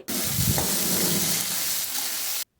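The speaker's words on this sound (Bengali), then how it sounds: "এবারে সবজিগুলো ভালো করে ভেজে নিতে হবে।" Carrot, capsicum and onion fry in a pan for chire pulao, making a loud, steady sizzle close up that runs for about two and a half seconds, then cuts off abruptly.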